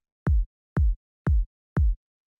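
Four evenly spaced kick drum hits from a soft, round, punchy sample, each a short low thump with a quick attack, played alone in a clean, steady rhythm.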